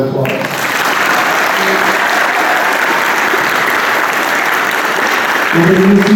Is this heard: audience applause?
yes